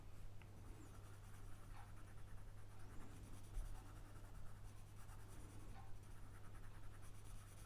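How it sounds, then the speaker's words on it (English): Pencil shading on paper for a one-point perspective drawing, quiet, continuous close scratchy strokes over a low steady hum, with no talk. "Just taking the pressure off the pencil."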